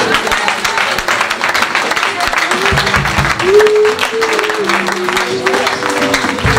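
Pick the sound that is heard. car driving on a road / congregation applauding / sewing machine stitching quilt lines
congregation applauding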